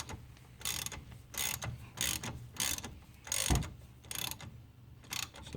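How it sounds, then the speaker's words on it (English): A ratchet cranks in bursts of rapid clicking while working on the brake caliper of a 2001 Ford Fiesta. About seven close, loud runs of pawl clicks are separated by short pauses, with no talking. "That's a good ratchet, that is, Gareth."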